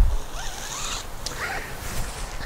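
A tent zipper is pulled closed in a few short, raspy strokes, close by, with faint rustling of fabric and no talking.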